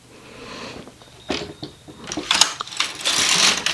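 A knitting machine carriage knits back across a row of a sweater during neck and shoulder shaping with stitches on hold, giving a close, loud mechanical whir with clicks and rattles that builds toward the end.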